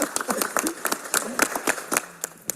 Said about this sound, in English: So with that, we applaud you, Rich, and all of the work that you do for us.